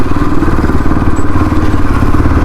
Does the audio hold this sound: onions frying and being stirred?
no